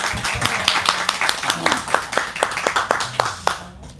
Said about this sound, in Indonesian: Boleh kita tepuk tangan lu dong biar seru.